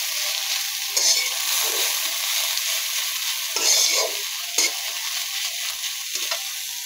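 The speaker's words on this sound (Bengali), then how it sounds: "রেডি করা চিকেনগুলো আমি এই যে তেলে ভেজে নিচ্ছি।" Chicken pieces with onions frying in oil for a sandwich: a continuous bright sizzle up close, broken by a few louder stirring scrapes, with no voices.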